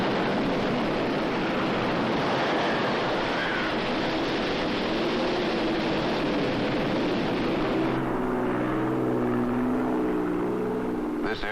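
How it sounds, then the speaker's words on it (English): A propeller aircraft heading toward a hurricane, flown by weather reconnaissance crew, gives a steady, loud, broadband engine and airflow roar that continues throughout, with a lower droning hum growing more prominent near the end. "This airplane is heading toward a hurricane."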